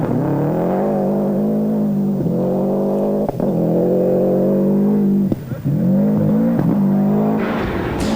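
A four-wheel drive rally car in a 1990s World Rally Championship event accelerates hard away from the start line, its engine climbing through loud, close gear pulls with brief drops at each shift.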